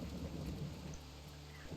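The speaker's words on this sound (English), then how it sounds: "it's raining and we're wet and it's actually a thunderstorm now" Thunderstorm with steady heavy rain in the WolfQuest video game, a continuous low rumble of thunder beneath dense hissing rainfall, loud and unbroken with no talking.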